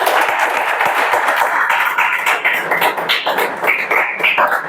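Students in a classroom clapping loudly, a close, busy burst of many hands that thins into more scattered, uneven claps toward the end.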